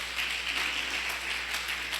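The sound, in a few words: congregation applauding in church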